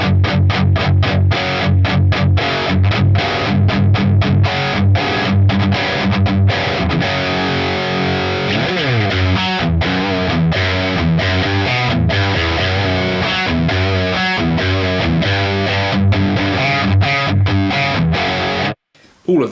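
Heavily distorted electric guitar through a modeled Peavey Invective metal amp, riffing with a thick, saturated tone, continuous and loud, chugging chords and sustained notes, ending abruptly.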